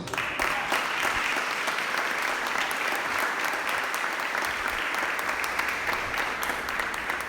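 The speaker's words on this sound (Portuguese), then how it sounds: "Quantos creem nisso, aplauda o Senhor." A church congregation claps together in sustained, dense applause, loud and even throughout with no pauses.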